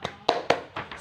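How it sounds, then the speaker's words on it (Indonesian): Audience of mothers performs a rhythmic spirit clap during a health class, five sharp group claps in a quick patterned rhythm, fairly close and moderately loud. "Kita akan coba tepuk semangat."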